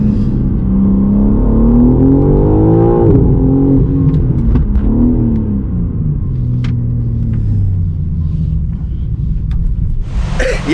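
A 2023 BMW M3 CS engine revs hard and accelerates with some wheelspin, its deep roar rising and falling in pitch through several gear changes, loud and close throughout.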